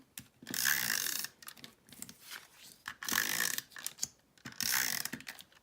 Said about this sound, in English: we're going to run our snail adhesive on all 4 sides of this panel